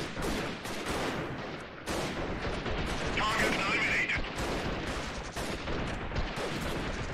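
Rifle shots crack out in Freeman Guerrilla Warfare, a series of loud, spaced reports with a few tighter clusters over a constant battlefield rumble, while someone speaks French over the action.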